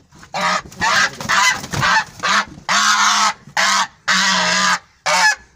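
Loud, repeated nasal honking from Chinese geese nearby, about ten honks in quick irregular succession with short silences between.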